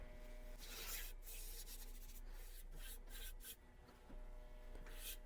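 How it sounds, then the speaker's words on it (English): Abrasive polishing paste rubbed onto a wooden workpiece spinning on a woodturning lathe, giving a steady, close hiss of friction with a low motor hum beneath and a brief dip midway. "Now you apply this or rub it in with the machine spinning"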